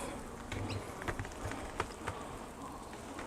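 Honey bees buzz around the open top of a backyard beehive, a soft continuous drone with faint scattered ticks and bumps, close by and without voices.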